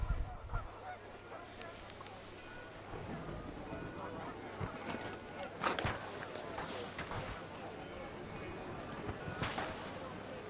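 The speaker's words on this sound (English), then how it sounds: "The wind picked up and panicked geese appeared and quickly went" Panicked geese from the game What Remains of Edith Finch honk in short, scattered calls over a low, windy outdoor bed, with a narrating voice over it.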